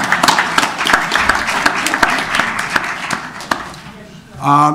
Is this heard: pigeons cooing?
no